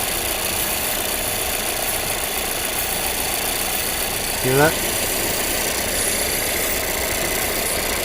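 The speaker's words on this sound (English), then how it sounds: "We got a leaking purge valve." A 2019 Volvo XC60 engine idles with a leaking purge valve, giving a steady, close hiss over the running engine. A brief voice cuts in near the middle.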